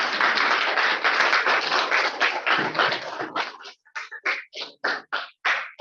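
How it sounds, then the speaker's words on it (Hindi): Students in a classroom clap together in a loud, dense burst of hand clapping that thins into separate, rhythmic claps toward the end. "ताली बजाओ यार।"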